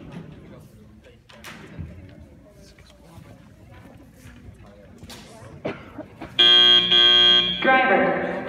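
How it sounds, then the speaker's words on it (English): Quiet background chatter and noise at a high school robotics competition, then a loud electronic competition buzzer blares for about two seconds near the end. "That's the buzzer."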